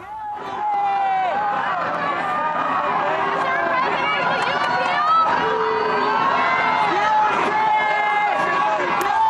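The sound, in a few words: crowd cheers and boos as Donald Trump arrives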